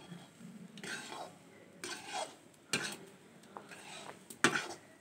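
A spoon scrapes and clinks around a cooking pot as malai cream is stirred over heat in a village kitchen, giving irregular metallic scrapes and taps with faint sizzling between them.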